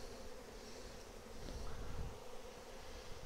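Honey bees buzz densely and steadily around a freshly split hive, a continuous close swarm hum with no voices.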